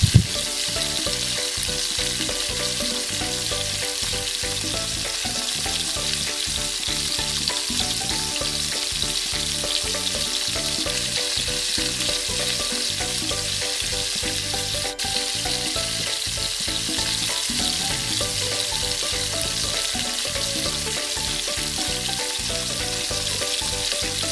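Combro fries in hot oil with a steady, dense sizzle and crackle, continuous and close, with occasional soft stirring sounds.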